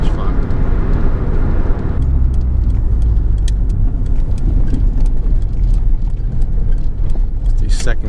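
A Ford Fiesta Mk5 Zetec-S is driven on open roads, heard from inside the cabin as a loud, steady engine and road roar, with a voice faintly over it.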